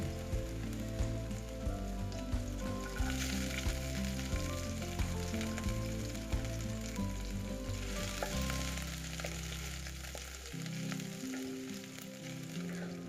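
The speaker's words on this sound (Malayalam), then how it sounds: "ഒരു വലിയ കഷ്ണം ഇഞ്ചി അരിഞ്ഞതും 10 അല്ലി വെളുത്തുള്ളി അരിഞ്ഞതും കൂടി ഇതിലോട്ട് ചേർത്ത് ഒന്ന് വഴറ്റിയെടുക്കാം" Chopped ginger and garlic sauté in coconut oil for chicken cutlets, a faint sizzle mostly buried beneath a continuous background music track.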